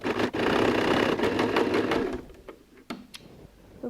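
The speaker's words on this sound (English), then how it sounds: "we're going to go and sew on this line" A sewing machine stitches jersey stretch fabric in a steady, loud, rapid whir for about two seconds, then stops, leaving a few soft clicks and handling sounds nearby.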